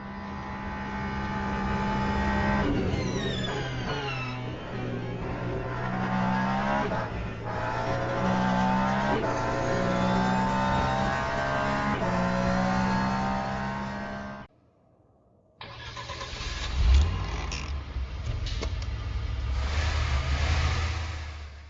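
Race cars in the Le Mans Ultimate racing sim roar past with loud, rising and falling engine notes and gear shifts, a brief near-silent gap, then another close, aggressive pass with revving.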